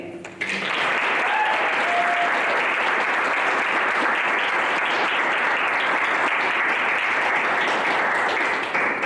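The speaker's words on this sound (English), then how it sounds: "give Colin a warm welcome and a big round of applause" Loud, sustained applause from an audience, steady clapping filling the room from start to finish with no break.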